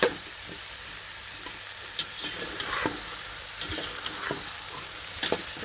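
Peas, potatoes and tomatoes with a tempering sizzle and crackle steadily in a hot pan, with occasional stirring clinks and scrapes, no voices.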